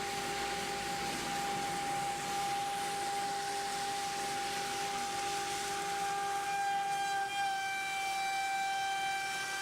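A CNC router carves a precise design into melamine-laminated MDF, giving a loud, steady high-pitched whine with sustained tonal lines that shift slightly partway through, running continuously without talk.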